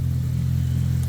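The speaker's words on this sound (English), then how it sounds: "That's my neighbor's car, and Cody does not like it at all." A neighbor's car engine idles close by as a steady, loud low rumble with no change in pitch, heard on its own without voices.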